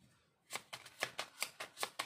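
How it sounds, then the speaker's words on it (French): Tarot cards are handled and pulled one by one from the deck, making a close series of about seven crisp, papery flicks in a steady rhythm after a brief quiet start. "Je vais enlever les cartes."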